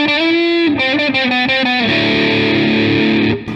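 Electric guitar through a NUX MG100 preset modelled on a Rat distortion pedal plays a few crunchy, saturated notes and chords, then a ringing sustained chord, close and loud with no talking.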